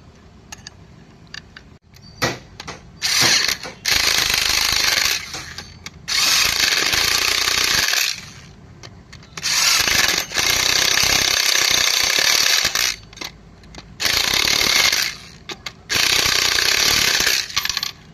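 Ratchet or power tool driving a new bolt into the clutch assembly of a Toyota Etios, heard in several loud bursts of mechanical whirring and clicking separated by short pauses, with no talking.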